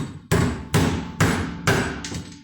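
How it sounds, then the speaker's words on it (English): Four sharp metallic hammer strikes on a screwdriver ring out at a steady pace, knocking out the plug of a Badger 100 garbage disposal, each with a bright clang that decays before the next blow, close and loud. "I'm just going to take a hammer here, screwdriver,"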